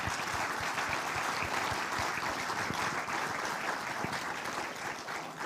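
An audience at the 2022 Queensland Australian of the Year Awards claps for the Senior Australian nominees, dense continuous applause holding steady throughout and easing slightly at the end.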